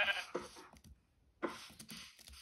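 Sheep bleat in a hardcore survival video game, two distinct bleats separated by a short pause, close and fairly loud with no talking over them.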